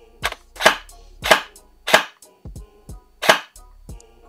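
Double Eagle x Noveske airsoft rifle firing on semi-auto, about seven sharp snapping shots at an irregular pace, each a crisp mechanical crack close to the microphone with no talking.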